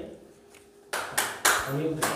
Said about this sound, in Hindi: भोला जी का स्वागत तालियों से किया जाए